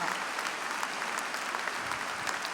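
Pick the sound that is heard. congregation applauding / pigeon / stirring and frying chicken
congregation applauding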